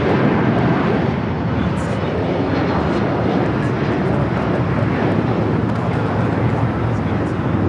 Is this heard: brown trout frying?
no